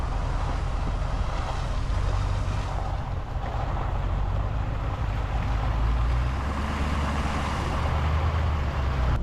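A truck in four-wheel drive travels an icy, snowy road with a steady low engine drone and broadband road and tire rumble heard from inside the cab. The rumble rises slightly toward the end, and there is no speech.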